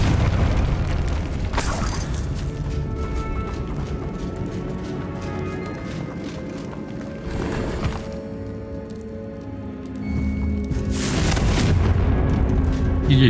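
Confringo blasting spells strike in the Hogwarts Legacy video game, three sharp loud bursts spaced several seconds apart, each rolling into a rumbling crackle over ongoing battle noise and music.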